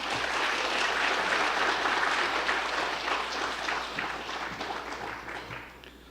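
An audience in a church claps steadily at a Sunday afternoon worship service, a dense, loud wash of applause that holds strong and then slowly thins toward the end.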